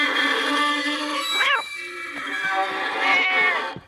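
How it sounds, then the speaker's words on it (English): A cartoon cat meows in an animated Mr Bean episode, a drawn-out, pitch-bending cry with a second shorter meow near the end, set against steady background music. "You said you didn't have a cat."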